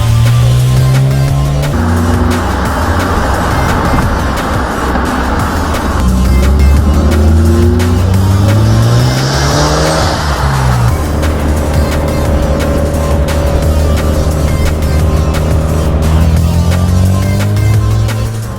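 A loud Mazda RX-7 sports car engine revving up and down in rising and falling pitch sweeps, close by, with no talking.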